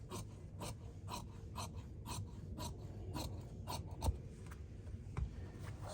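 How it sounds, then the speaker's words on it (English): Scissors snipping through suit canvas, a steady run of short crisp cuts at an even rhythm, close and fairly quiet, with no voices. "You rule the straight line, and then we cut."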